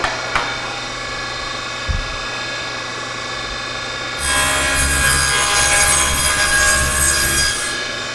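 A table saw hums loudly at idle, then bites into a strip of plywood, the whine thickening into a harsh, full cutting roar for a few seconds before easing back to the motor's steady drone.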